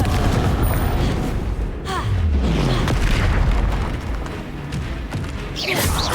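A Confringo fire spell exploding in Hogwarts Legacy combat, booming loudly with a falling whoosh near two seconds and rumbling on amid continuous battle noise.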